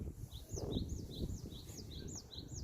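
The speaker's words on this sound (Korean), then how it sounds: "새소리가 좋습니다" Birds sing in a windy spring forest, repeating quick rising-and-falling chirps in a regular series over a low rumble of wind and rustling.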